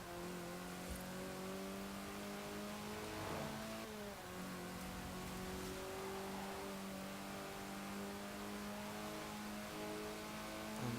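A small Renault car in the Forza Horizon 4 racing game revs hard and steadily, its engine tone climbing and shifting with a faint tire squeal, loud and close.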